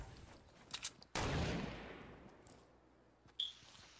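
Fortnite gunfire cracks out: a couple of faint shots, then one loud sharp blast with a long decaying echo, and another sharp report near the end.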